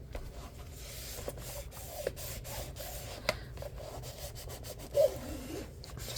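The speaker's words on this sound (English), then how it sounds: "Going to burnish that down" Paper being burnished down onto an album page gives a soft, continuous rubbing hiss with a few small taps and clicks, close and fairly quiet.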